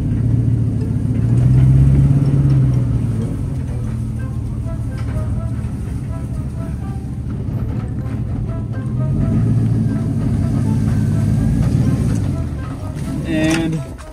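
A monster truck's engine rumbles steadily as it creeps slowly toward a gas pump, with a loud, continuous low drone that swells and eases, and a brief sharper sound near the end.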